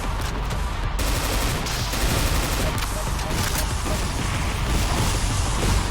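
An enemy's shotgun attack in the God Complex Doom mod: loud, dense rapid gunfire and blasting roar continuously for about six seconds amid chaotic game noise.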